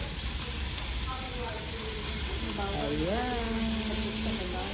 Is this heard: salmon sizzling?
yes